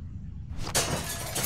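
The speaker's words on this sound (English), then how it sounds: "Use the bat to shatter that window so you can reach in" A window's glass shattered with a bat in The Walking Dead video game: a sudden loud crash that breaks into a bright spray of tinkling shards, close and alone.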